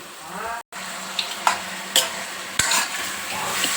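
Tomato pieces are stirred in oil in a pan with a steady sizzle, broken by a few sharp scrapes and knocks from the spoon and one brief dropout, close by with no talking.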